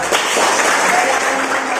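A class applauding, a short dense burst of clapping that stays steady throughout and sounds close to the listener.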